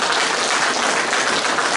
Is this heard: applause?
yes